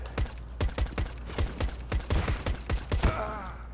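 Rapid gunshots from the video game Counter-Strike, a string of about a dozen sharp cracks fired in quick succession, loud and close, with a brief ringing tail at the end.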